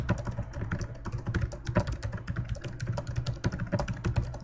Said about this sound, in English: this is where I'm gonna literally type what I see here